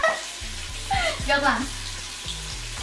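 Food sizzles steadily on a Tefal Plancha Compact electric grill, a continuous close frying hiss with bright crackles, while a person talks briefly over it.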